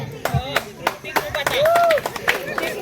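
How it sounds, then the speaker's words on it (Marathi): A group of people clapping during a game at a beach camp, a few scattered claps and slaps over lively voices, with a brief whistle-like tone partway through. "ओके, टाळ्या वाजवायच्या आहेत."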